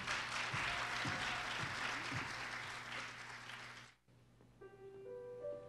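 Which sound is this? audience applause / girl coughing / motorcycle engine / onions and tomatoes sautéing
audience applause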